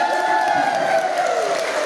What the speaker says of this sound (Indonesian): Sekali lagi berikan aplaus yang meriah.